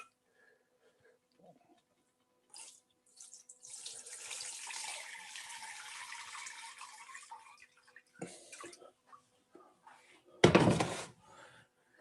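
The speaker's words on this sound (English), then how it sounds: "I have this hot oil from before, and I'm gonna use that. I'm gonna pour it into this." Hot cooking oil pours from one container into another in a kitchen, a steady liquid stream running for several seconds, then a sharp loud clatter near the end.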